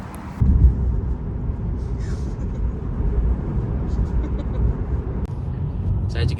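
A Tesla Model 3 cruises along the road with a steady, close low rumble of tyre and road noise inside the cabin, holding an even level throughout.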